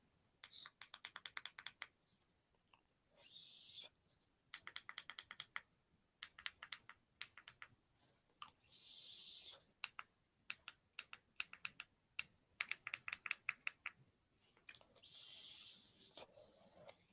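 A vape device that will not fire gives off rapid, repeated small clicks in quick bursts at close range, with short hissing puffs in between.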